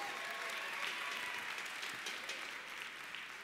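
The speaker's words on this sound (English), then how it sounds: "give yourselves a round of applause" An audience at a 2014 convention speech claps steadily, a dense, even wash of applause from a large crowd heard at moderate distance, with no talk.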